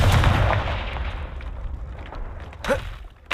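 A Confringo fire spell in the Hogwarts Legacy video game: a loud, booming blast that rumbles and fades over about three seconds, followed by a brief whooshing flare near the end.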